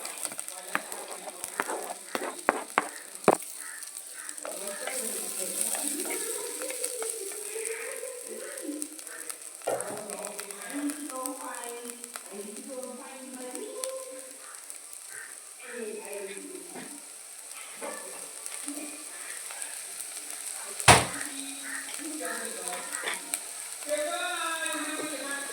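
Onion, ginger and green chili fry in hot coconut oil, a soft steady sizzle with crackles and occasional stirring clatters, a sharp clack near the end, while someone talks over it.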